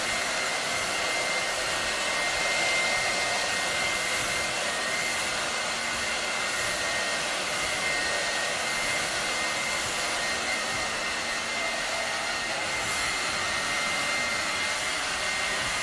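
A blow dryer on low airflow runs continuously while a stylist dries hair over a brush in a salon, a steady, even whirring hiss with no talking.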